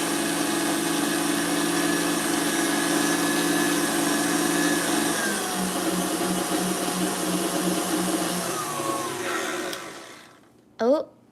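An electric mixer whisks meringue for macarons, a steady loud whir that shifts pitch partway through, then switches off near the end, followed by a brief clatter and a voice speaking.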